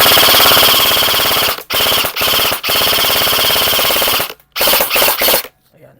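An airsoft rifle fires loud, rapid full-auto bursts, several long strings of shots broken by brief pauses, close and alone, ending in a few short bursts and silence.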